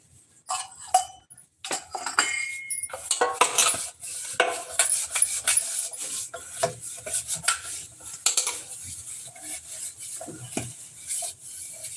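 Oil gets rubbed around the inside of a metal cake tin, giving scraping, rasping strokes and light metallic clinks in an uneven rhythm, close and fairly quiet with no talk.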